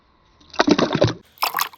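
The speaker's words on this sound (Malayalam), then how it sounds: "കപ്പിൽ വെള്ളം എടുക്കുകയാണ്" Water pours into a cup in two short bursts, a close splashing gush followed by a brief second pour.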